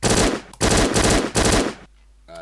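Uzi submachine gun firing in a video game: three loud, close bursts of rapid automatic shots separated by short gaps, then near silence before a brief tonal sound at the end.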